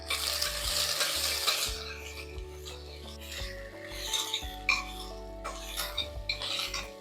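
Onions and tomatoes sauté in a pan for a rajma gravy, with a spoon stirring and scraping in uneven bursts over a soft sizzle, interrupted by pauses and a low background hum.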